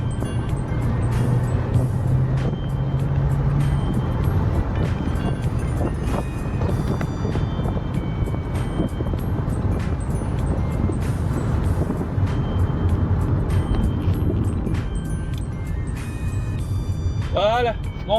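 A Peugeot 307 CC drives along with a continuous broadband engine and road roar from inside the car, holding fairly steady and loud throughout, with an extra chirp of sound near the end.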